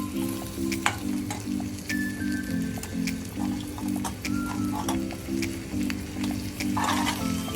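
Crab frying in a pan for a South Indian crab curry, a steady close sizzle and crackle with stirring scrapes, continuous throughout with no talk.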